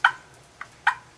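A turkey call worked by hand to mimic a hen turkey's whine, giving three short, clear, close notes in an uneven rhythm, the middle one softer, with nothing else around them.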